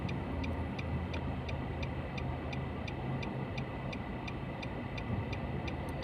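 Steady ticking of a car's left turn indicator during a driving test, faint regular clicks running under constant engine and road rumble from inside the moving car.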